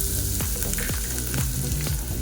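Onion sizzling in hot oil in a pan, a steady loud crackling fry with intermittent scraping strokes of a stirring spoon.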